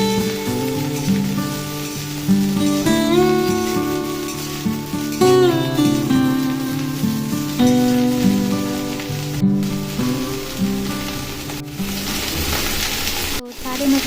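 Cauliflower sizzles in hot oil with a steady, bright crackling hiss, while a melodic music track plays loudly over it for the whole stretch.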